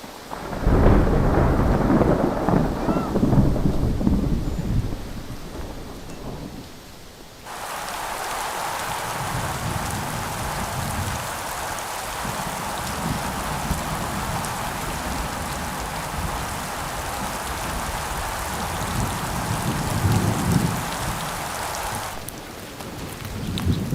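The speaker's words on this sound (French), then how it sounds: "Fin juillet, la mousson s'est définitivement installée sur le Maharashtra." Heavy monsoon rain pours down in Maharashtra while rolling thunder booms loudly at the start, then a steady hiss of rainfall continues with distant rumbles swelling and fading beneath it.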